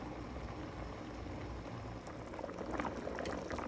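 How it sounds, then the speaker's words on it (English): A pot of rice boils on the stove with a steady, low bubbling and hissing simmer, heard up close and continuous, with a few brighter pops toward the end and no voices. "the rice is boiling"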